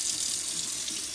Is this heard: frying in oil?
no